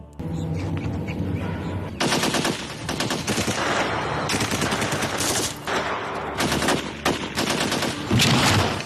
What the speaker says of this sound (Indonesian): tapi tembakan mereka semuanya meleset